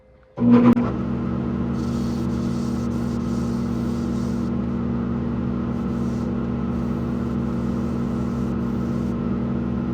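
Steady whirring drone of a wood lathe spinning a closed-form wooden bowl during sanding, starting after a brief moment of quiet and holding a constant rumbling hum with faint high scratchy overtones throughout.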